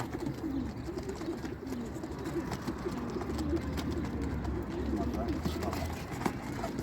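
Soft, repeated cooing from pigeons in a loft blends with a steady low rumble and background noise, continuing throughout at a moderate distance.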